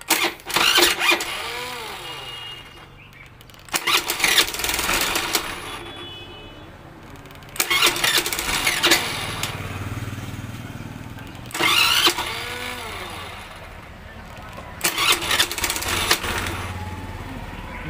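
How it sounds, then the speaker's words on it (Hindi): A Hero Pleasure scooter engine with a starting problem is cranked four times, each attempt a burst of rough mechanical revving that dies away without catching, with quiet gaps between tries. "हम गाड़ी स्टार्ट कर रहे हैं, स्टार्ट होने के लिए करता है लेकिन स्टार्ट होता नहीं है।"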